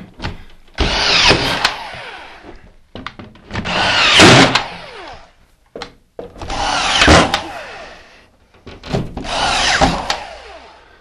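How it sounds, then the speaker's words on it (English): A screw gun drives screws to fasten drywall sheets to a Mighty Nailer drywall fastener, heard as four loud, separate whirring bursts of about a second each with short pauses between them. "Take your screw gun."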